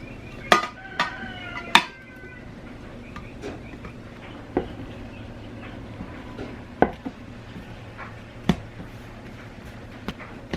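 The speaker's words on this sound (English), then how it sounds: "If you hear pounding, Brett's over here chopping firewood." Firewood being chopped a short way off: sharp, irregular knocks ring out every second or two, like an axe striking wood, over a faint steady background hum.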